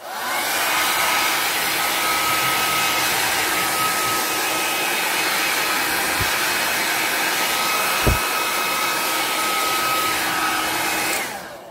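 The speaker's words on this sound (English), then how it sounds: "the easiest way to get rid of them is your hair dryer" A hair dryer blows steadily and loudly on a jeweled Christmas tree craft, a constant rushing whoosh with a faint whine, no voices.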